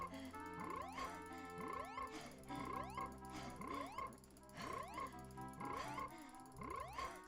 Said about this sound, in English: I love this frog croaking sound